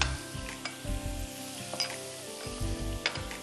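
Chicken sizzles in a frying pan while being stirred, with steady frying hiss broken by scrapes and clinks of a utensil against the pan, close and moderately quiet.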